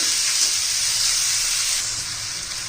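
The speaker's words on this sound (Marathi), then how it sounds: "आता चांगलं परतून घेते मी" Chopped onion sautéing in a pan for a moong dal dish, a loud continuous sizzle and hiss of hot oil, steady and close, easing slightly toward the end with no voices.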